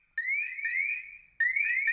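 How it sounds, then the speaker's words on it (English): A Safeforce gas detector sounds its loud audible alarm, a piercing repeating warble of rising electronic sweeps that cuts off briefly, then resumes just as loud. "a very loud audible alarm is sounded when the device has detected a gas range outside of its preset limits"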